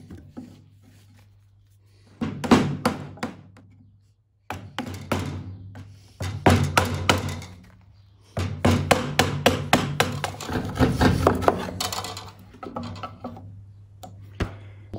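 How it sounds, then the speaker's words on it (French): Hand tools such as a mallet and chisel square out bit-drilled mortises in a timber roof support bracket, giving bursts of close, sharp knocks and taps in quick clusters separated by short pauses, under a steady low hum. "on va équarrir les mortaises qui ont été réalisées avec la mortaiseuse à"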